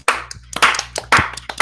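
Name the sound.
hand clapping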